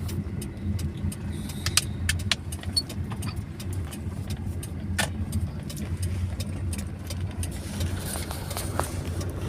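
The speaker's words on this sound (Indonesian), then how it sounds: "Mobil kecil lewat sini" A small car passes through a rest area on the Trans-Sumatra toll road, a continuous low engine hum with scattered light clicks and taps over it, with no clear voices.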